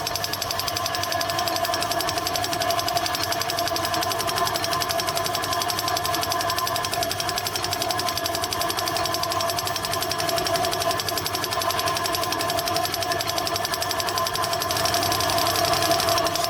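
A Gingery milling machine spindle runs in its low range and second in the drive at about 678 rpm, giving a steady mechanical whir and hum with a faint rhythmic chatter, constant throughout with no talking.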